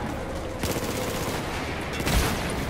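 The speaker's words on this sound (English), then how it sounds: "Can you hear all those fucking sniper shots, dude?" Battlefield 4 video game gunfire: dense bursts of automatic and sniper shots rattle continuously through the clip, with a louder cluster of close shots near the end, steady and busy throughout.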